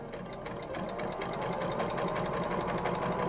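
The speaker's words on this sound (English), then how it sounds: "sew across the top." A sewing machine stitching across the top of an apron, a steady fast mechanical whir with even rapid clicking, close and continuous throughout.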